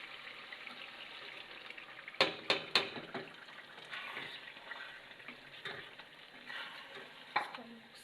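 Yogurt stirred into fried chicken in a pot for spicy Gujranwala-style biryani. Under a soft frying sizzle, a few sharp spoon scrapes and clinks come early, then softer stirring continues.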